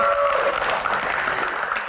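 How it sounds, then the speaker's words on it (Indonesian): An audience from a community group claps at a live talk-show event, a brief dense burst of applause that holds steady and tapers slightly. "tepuk tangan dong."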